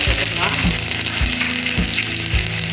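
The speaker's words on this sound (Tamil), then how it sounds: "கடுகு பொரிஞ்சிருச்சு," Mustard seeds and urad dal crackle and pop in hot oil for a rajma sundal tempering, a dense close sizzle with rapid spluttering over a low, regularly pulsing hum.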